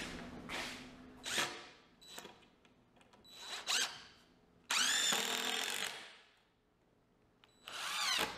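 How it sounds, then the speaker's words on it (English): A power driver drives screws into the wooden diagonal braces of a homemade shelving unit. There are several separate bursts of whirring, some short and some longer, with brief pauses between them, close by and fairly loud. "I'm gonna drive some screws in the"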